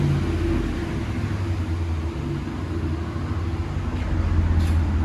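A 2016 Chevy Silverado with a 5.3L V8 and Magnaflow dual exhaust idles with a steady, deep low rumble, close and continuous without any revving.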